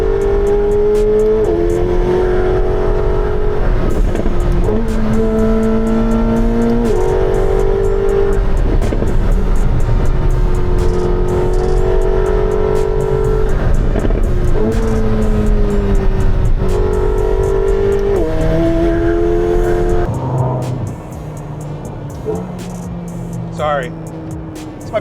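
McLaren 750S sports car driving and accelerating, a loud sustained engine drone with rising gear-by-gear pitch sweeps, heard from inside with people talking over it before it drops off near the end.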